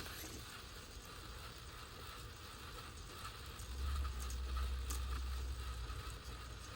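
Steering gears on an RC crawler chatter and grind in a faint, rough mechanical clatter that grows heavier for a few seconds midway, heard close with no talking.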